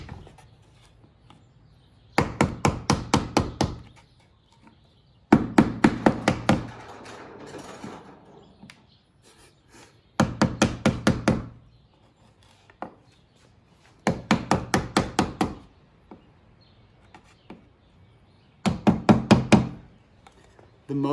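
Repeated bursts of sharp knocking taps on the loose roof edge trim molding of a BMW E36 coupe, five clustered volleys of rapid hits separated by short pauses, close and fairly loud.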